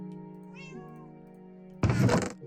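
Cats in the Minecraft video game give a soft high meow over a steady droning background, then a louder, harsher burst of meowing near the end.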